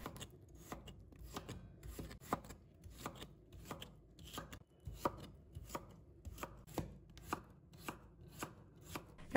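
A knife cuts half a cucumber into thin strips on a board, a fast, steady run of sharp chopping taps close by with no talk.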